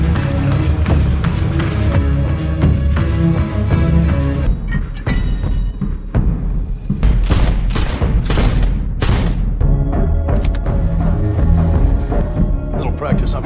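Gunshots crack in a cluster of sharp, loud bangs during shooting practice in a film scene, set against a dense backdrop of music and voices.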